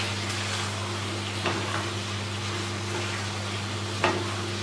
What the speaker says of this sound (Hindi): अब हम मसाले को अच्छे से भून लेंगे।